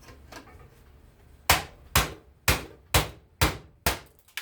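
A hammer strikes a chisel to pop rivets off scrap brass, giving six sharp, evenly spaced metallic blows, loud and close, after quieter tapping at the start.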